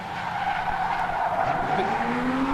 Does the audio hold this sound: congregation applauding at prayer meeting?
no